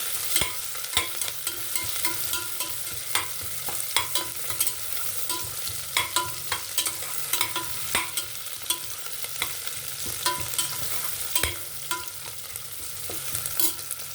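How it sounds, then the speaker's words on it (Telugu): Onions, curry leaves, green chillies and cloves frying in a pan, a steady bright sizzle with frequent sharp clicks of a stirring utensil, close and continuous with no talking. "కరివేపాకు, పచ్చిమిరపకాయలు, లవంగ, ఉల్లిపాయలు వేసుకున్నాను"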